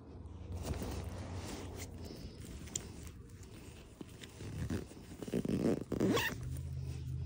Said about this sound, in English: It zips, no problem.